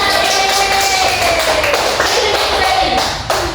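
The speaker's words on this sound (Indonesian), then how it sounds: "Oke, tepuk tangan semua ya." Students in a classroom clap their hands together in a dense, continuous patter that fills the room, mixed with cheering voices and a few louder taps near the end.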